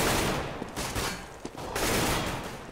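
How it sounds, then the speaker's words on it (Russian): Rapid gunfire bursts in a Counter-Strike firefight on Dust2 during a pro match between NiP and Titan, dense overlapping shots crackling loudly throughout, with no talk. "перестрелка со шведами"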